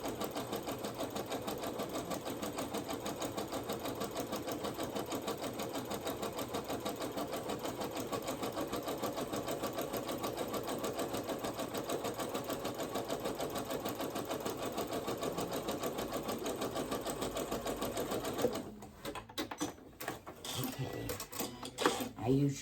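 A sewing machine runs a zigzag stitch along a braided twist placemat, a continuous rapid rattling whir at moderate level, shifting near the end to irregular taps and handling clatter.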